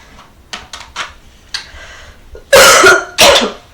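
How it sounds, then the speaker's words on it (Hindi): A woman coughs several times at close range, a few light coughs early on followed by two loud, harsh bursts near the end, with quiet handling sounds in a room and no speech. "सॉरी, खांसी बहुत आ रही है ना।"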